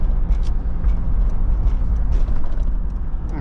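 A 2000 Chevrolet Blazer LS drives onto a freeway, heard from inside the cabin as a steady loud engine and road rumble with a continuous low drone and faint wind hiss throughout.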